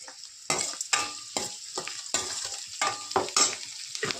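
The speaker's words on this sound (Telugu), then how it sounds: "ఉల్లిపాయలు వేగినాయి. ఇప్పుడు టమాటా వేద్దాం." Tomatoes dropped into a pan of fried onions, crackling in bursts with repeated stirring scrapes at close range and no talking.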